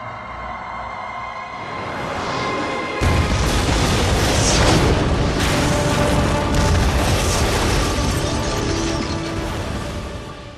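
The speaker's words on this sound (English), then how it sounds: "Kronk and Zephyr are killed as the prison ship they are on explodes" Prison ship exploding in a Ratchet and Clank video game: a rising rumble breaks into a loud, sustained blast with crackling debris and roaring noise that continues for several seconds.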